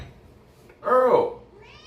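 A cat meows once, a short, loud, close call after a few quiet moments indoors.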